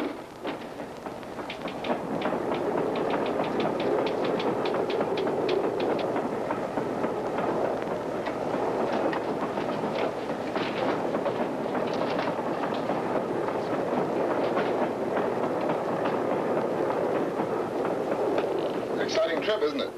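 A passenger train runs steadily on its rails, a continuous rumbling with faint rhythmic clickety-clack, loud and sustained throughout, heard from inside the carriage with no talk over it.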